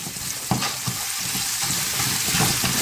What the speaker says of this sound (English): We got some onions over here sauteing.